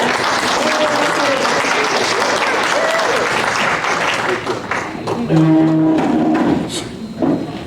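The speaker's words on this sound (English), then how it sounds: "That's another round of applause." Sustained applause fills a board of education meeting room, steady and loud throughout, with a few voices and a brief drawn-out call rising over it near the end.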